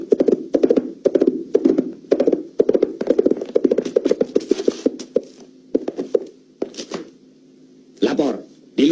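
A horse's hooves clip-clop in a steady rhythm as a rider approaches on horseback in a 1987 Indonesian period film, close and loud with occasional whinny-like bursts, with voices talking over it.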